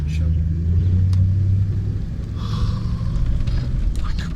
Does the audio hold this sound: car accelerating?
yes